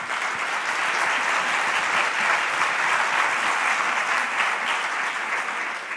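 Sustained, dense applause fills a hall as a round-table audience claps for its speakers, steady and even throughout with no voices on top.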